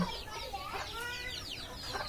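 Several native country chickens cluck and chirp softly in a small free-range flock, overlapping calls at moderate distance over a low background hum.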